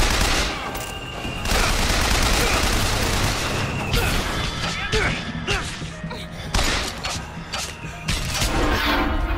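Grenade launcher blasts and rapid gunfire from a BioShock Infinite firefight crack and thump in loud, repeated bursts, a chaotic volley of shots with heavy booms mixed in, with a voice talking over parts of it.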